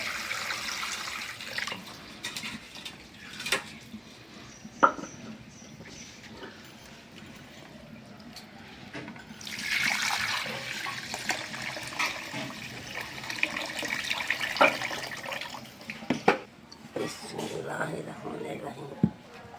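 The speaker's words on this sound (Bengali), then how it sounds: "এখন পাটাটা ধুয়ে টুয়ে ক্লিয়ার করে দিই" Water poured and splashing over a stone grinding slab (pata) as it is rinsed clean after grinding in a home kitchen, running in bursts with a steadier flow midway, while a person talks throughout.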